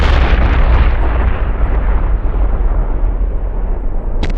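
A massive test detonation of 90,000 kg of C4 explosive in the desert, a loud sustained roaring rumble that fills the whole clip with deep low-end energy and slowly fades, with a brief sharp click near the end.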